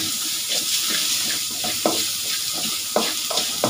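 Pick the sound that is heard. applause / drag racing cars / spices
spices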